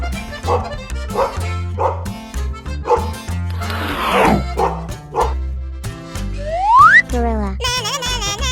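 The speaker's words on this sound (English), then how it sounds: "Dog." A cartoon dog barks in repeated rhythmic woofs and yips over a bouncy music bed, with a boing-like sliding effect and a whistle sweep near the end, all close and clear.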